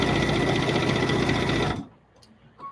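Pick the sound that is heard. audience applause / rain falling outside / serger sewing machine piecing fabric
serger sewing machine piecing fabric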